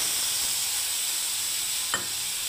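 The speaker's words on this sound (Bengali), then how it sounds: "গ্যাসের আঁচটাকে কম করে দিলে এবারে মশলাটাকে দিয়ে দিচ্ছি" Spices with a bay leaf sizzle in hot oil on a gas flame turned low while cooking a pointed gourd dish, a steady close hiss with a brief stirring scrape near the end.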